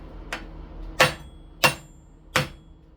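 Four sharp hammer strikes cracking open BBQ tails, each a crisp close crack with a short decay, spaced unevenly over a quiet background.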